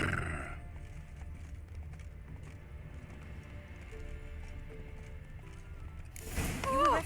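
Roach, a horse in The Witcher 3, gallops with steady hoofbeats under continuous game ambience and music, ending in a louder burst near the close.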